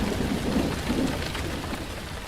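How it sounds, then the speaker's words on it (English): Steady rain drums on a roof at night, a dense, continuous patter with a low rumbling undertone, moderately loud and unbroken throughout, with no voices. "not only do we have like the beautiful sounds of the rain hitting the roof"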